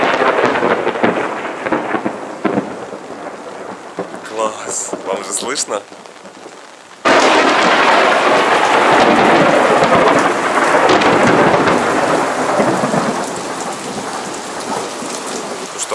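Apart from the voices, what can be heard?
thunderstorm with thunder and rain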